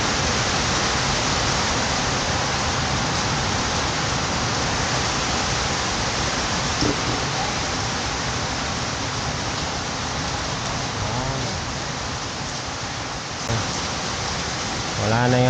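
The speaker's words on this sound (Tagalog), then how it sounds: "Palakas ng palakas yung ulan, oh." Heavy rain pours in a dense, steady roar that fills the whole stretch, loud and close, with faint voices barely surfacing beneath it.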